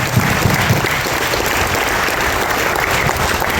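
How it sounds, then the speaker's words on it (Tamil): A large audience at a stage play performance of Indrajit applauds loudly and continuously, a dense wash of clapping that stays even and close throughout with no talk on top. "பெரிய கரகோஷம் தருவோம்."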